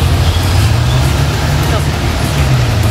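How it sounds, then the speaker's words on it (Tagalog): City traffic passes on a bridge late at night, a loud, constant low engine rumble with a steady roadway roar, while a person talks close by. "Nandito pa ako sa may tulay. At wala lang, nagbibilang ako ng mga sasakyan."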